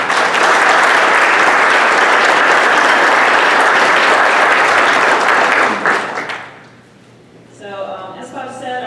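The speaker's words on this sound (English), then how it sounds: "I don't know if it's appropriate to give him a round of applause," Loud, sustained applause fills a room at a state finance forum, a thick wash of clapping from many hands that holds steady for several seconds, then fades away before a voice begins speaking.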